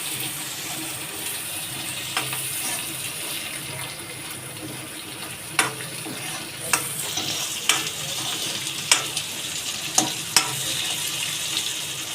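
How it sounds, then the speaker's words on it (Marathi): Onions stir-fried in hot oil over high flame for paneer chilli, a steady sizzle and hiss with sharp scraping clicks of a spatula against the pan growing more frequent toward the end. "आता हे सर्व मी तेलामध्ये परतून घेते."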